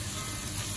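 Steady crackling sizzle of chicken sauté frying in hot oil, close and continuous, with no voices.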